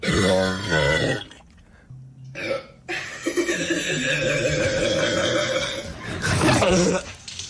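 Burping sounds from a replayed clip mix with chuckling and grunt-like noises, loud and close, with voices and laughter around them and a few brief pauses between bursts.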